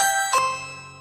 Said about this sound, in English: The doorbell sound effect.